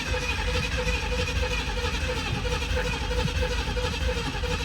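A 1987 Pontiac Firebird engine runs steadily at idle after sitting for 22 years, a continuous rough mid-pitched drone close by with no talk over it.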